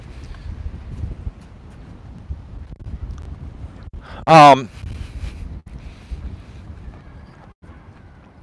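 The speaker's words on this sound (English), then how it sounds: "It is a bit windy, folks." Gusty outdoor wind buffets a microphone that has a windscreen, giving a low steady rumble, and one short loud blast of voice rises above it partway through.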